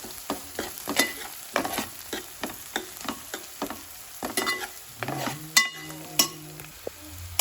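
Onions and green chillies fry in oil with turmeric while a spatula stirs, giving a steady sizzle broken by repeated sharp scraping strikes against the pan, close and moderately loud.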